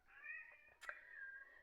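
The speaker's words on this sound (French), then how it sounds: "peut-être que vous entendez mon Lulu, c'est mon chat, qui est en train de discuter" A house cat meows in a drawn-out, chattering call with a brief rising squeak in the middle, faint and close in a quiet room.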